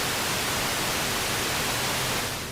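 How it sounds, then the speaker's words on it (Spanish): Loud, steady hiss of static from a digital-signal television, a dense broadband rush that holds constant throughout and fades slightly at the very end, with no voices. "Se supone que en las televisiones con señal digital ya no hay estática. Sin embargo, aquí la había"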